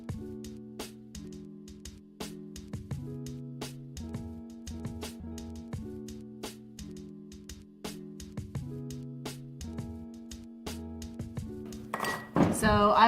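A spoon clinking against a bowl while stirring homemade play dough with vegetable oil, a steady rhythmic series of clicks and light knocks, close up, ending in louder scraping and clatter.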